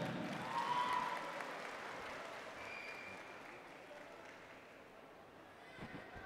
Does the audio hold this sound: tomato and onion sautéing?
no